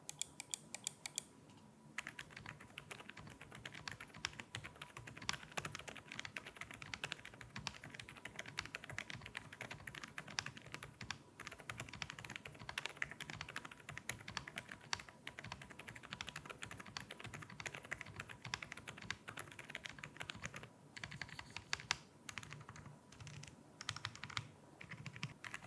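A Yunzii AL71 metal-bodied mechanical keyboard being typed on, a continuous stream of close, crisp key clacks at a fast, uneven rhythm with occasional pauses, no voices.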